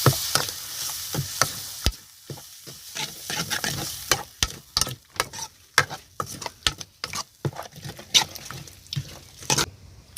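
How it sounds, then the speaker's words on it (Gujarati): Gravy with turmeric and Kashmiri chili powder is stirred in a hot pan, giving repeated sharp scraping clacks over a continuous frying sizzle, close and irregular, with no talk. "પછી આપણે હલાવી નાખશું."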